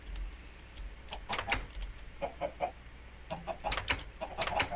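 Minecraft chickens cluck in short scattered bursts, fairly quiet, over a low background hum with no voices.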